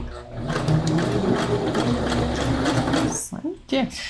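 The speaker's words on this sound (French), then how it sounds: "La machine me permet de coudre des boutons" A sewing machine stitches a button onto fabric with a continuous, close mechanical whirring for about three seconds, then stops and a person briefly talks.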